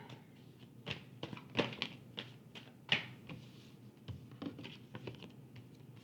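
Tarot cards are shuffled between readings: close, quiet clicks and soft riffling pattering in uneven bursts, with a few sharper snaps and no speech.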